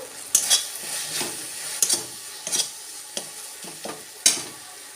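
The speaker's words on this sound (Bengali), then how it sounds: "এবার টমেটো একটু কষে নিয়ে এর মধ্যে দেব লাল লঙ্কার গুঁড়ো, 1 চামচ ধনে গুঁড়ো, সামান্য হলুদ গুঁড়ো" Tomato and ground spices, red chilli, coriander and turmeric, fry in a pan while a spoon stirs and scrapes in a steady rhythm. Soft sizzling sits under several sharp metallic clinks, close and moderately loud, with no voices.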